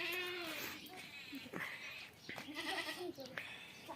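A goat bleats several times close by, wavering cries with pauses between them, mixed with some talking.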